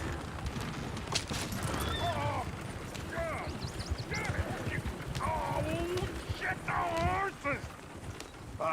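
Horses' hooves clip-clop steadily alongside a rolling coach in the Red Dead Redemption 2 video game, with occasional whinnies and voices talking over the hoofbeats throughout.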